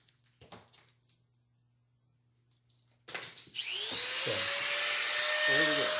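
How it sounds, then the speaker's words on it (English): A Dremel rotary tool starts up and spins steadily with a high, thin whine, rising in pitch as it gets up to speed, after a few faint handling knocks in near-silence. "Got to plug in the Dremel."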